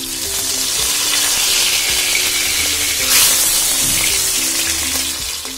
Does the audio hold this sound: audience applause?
no